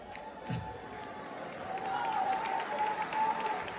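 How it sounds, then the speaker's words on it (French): Audience applause at the Miss Manjak pageant election, a steady wash of clapping from a crowd, fairly distant and moderate, with a sustained musical tone running underneath and a few faint cheers. "On peut applaudir cela."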